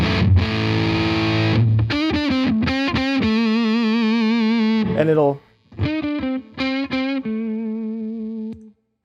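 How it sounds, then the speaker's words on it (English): An electric guitar runs through a Mythos one-knob fuzz pedal, giving a thick, buzzy, sustained fuzz tone. Long held chords and notes are followed by choppier, shorter stabs and a final ringing note, with a brief spoken phrase at the start. "it's a pretty standard fuzz sound"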